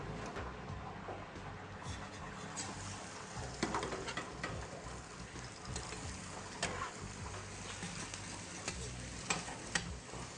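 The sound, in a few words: beef burger patties frying on griddle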